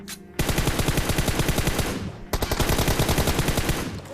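Rapid automatic gunfire in a video game rattles out in two long, dense bursts, loud and close, with a brief pause between them and no talk over it.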